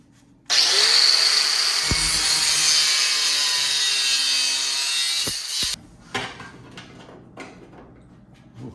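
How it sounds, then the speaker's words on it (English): Power saw cutting a steel body flange on a 1966 Triumph GT6 wheel well, one loud continuous cut lasting about five seconds close up, followed by quieter clatter of handling. "I'm gonna cut this flange a little bit on an angle, because that's how I cut the other flange there"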